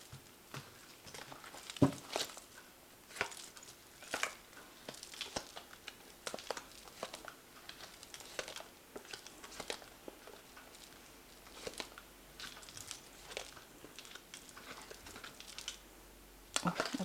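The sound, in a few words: drawing tarot cards from the Fountain Tarot deck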